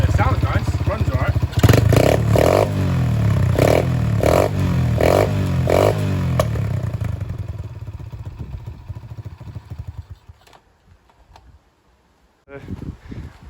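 A Dirt Master 110cc pit bike engine runs loud and close in a series of rhythmic revving bursts, then winds down and falls almost silent. It fires up briefly again at the end.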